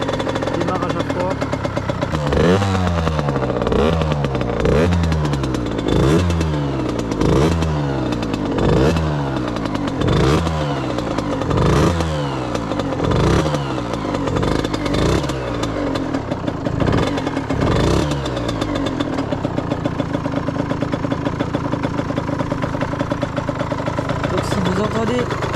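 A 2017 Gilera SMT 50 motorcycle with about 17,785 km starts cold and runs loud and close, its engine revving in a rapid series of repeated rises before settling into a steady busy idle, with a voice talking over it.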